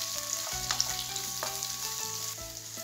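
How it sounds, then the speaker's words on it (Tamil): Onions sizzle steadily in a hot pan, a continuous frying hiss with occasional stirring scrapes, over faint background music. "பொன்னிறமாகிற வரைக்கும் நல்லா வதக்கிடுங்க."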